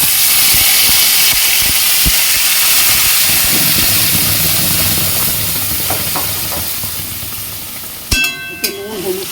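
A spiced mixture with salt and turmeric hits hot oil tempered with nigella seeds, giving a loud, continuous hissing sizzle that slowly eases, followed by a few clattering utensil knocks near the end.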